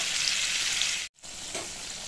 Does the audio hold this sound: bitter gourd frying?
yes